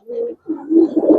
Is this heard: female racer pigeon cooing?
yes